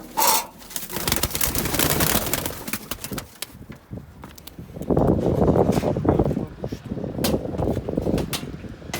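Pigeons in a loft coo and flutter in repeated bursts, close by, with some background noise and brief moments of talk between the calls.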